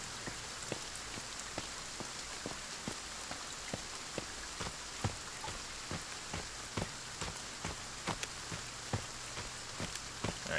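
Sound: rain in video game Friday The 13th

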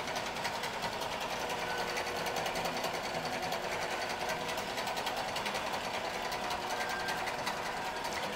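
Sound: QBOT V3 quilting machine stitching

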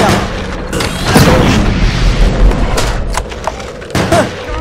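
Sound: cannon shells firing in a video game

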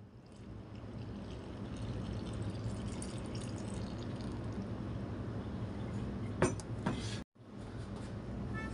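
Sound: pouring water into vanilla cake premix

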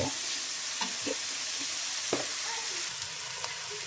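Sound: frying coconut and green chillies in oil

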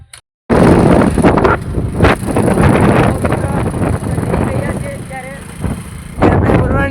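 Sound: wind noise on microphone

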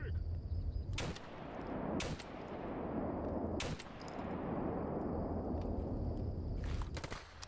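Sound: sniper rifle gunshots in the video game S.T.A.L.K.E.R. GAMMA

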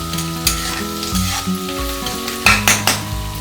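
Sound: frying onions in a pan

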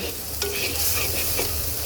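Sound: chopped onion frying in a pan

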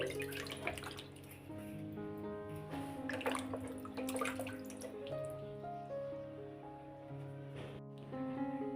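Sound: washing duck meat under running water

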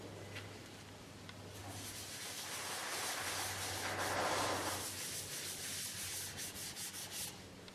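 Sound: scrubbing with a Scotch pad

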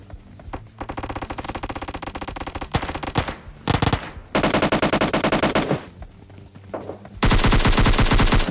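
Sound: automatic gunfire in video game PUBG Mobile Lite

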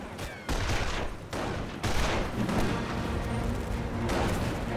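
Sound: rifle fire in Company of Heroes video game

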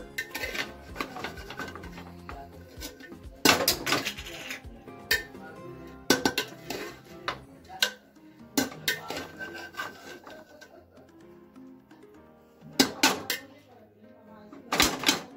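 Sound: stirring biryani rice in a pot with a spoon

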